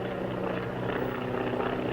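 A two-seat plane flies in a western film, its propeller engine drone steady and fairly loud for the whole stretch, with no speech.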